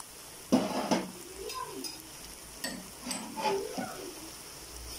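Chicken and onion fry in a pot with garlic paste for a Bombay biryani, with soft sizzling under scattered clinks and scrapes of a spoon stirring against the metal.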